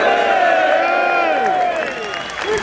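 A large outdoor crowd at a football-supporters' march in London roars and cheers loudly and continuously at the mention of Winston Churchill, the sustained cheering fading slightly toward the end.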